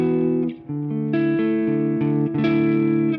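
An Ibanez Iron Label guitar on its neck pickup, played through a Fender Deluxe Reverb amp, rings out sustained chords with a warm, slightly driven tone and a reverb tail, changing chords several times with no talking.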